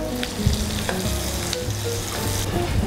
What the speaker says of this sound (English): I'm going to cook the onion through for about 5 minutes